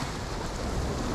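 Rain falls outdoors on a rainy day in Jamaica, a dense, even hiss of drops that fills the whole moment with steady, close noise and no talking.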